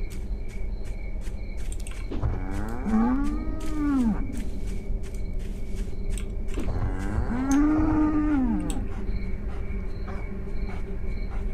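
Two long, close, bellowing moos from a cow in the video game Edge of Hearts arrive a few seconds apart over a constant ambient drone, and no one talks.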